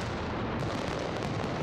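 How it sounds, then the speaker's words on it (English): An aerial firework barrage at Las Fallas in Valencia roars as a continuous, dense wall of blasts and crackles, loud and unbroken throughout. "Valencia launches one of Europe's greatest aerial firework barrages"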